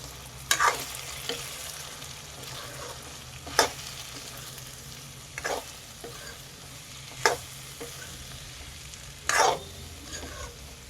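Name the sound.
stirring drumstick fry with chili and coriander powder in pan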